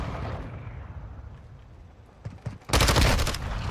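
Gunfire in the video game Modern Warfare 2 around shipping crates, with a few scattered shots followed by a sudden loud, dense burst of sustained firing near the end.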